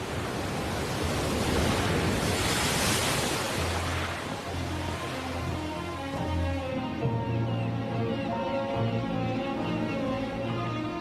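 Heavy, violent waves of the North Sea surge around the island of Helgoland, a loud, continuous roar of surf and wind that swells early on and stays dense throughout.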